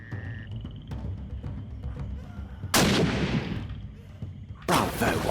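Two sharp, loud gunshots ring out in Sherlock Holmes: The Awakened as shots are fired at reptile creatures, each blast followed by a decaying echo over low ambient game sounds.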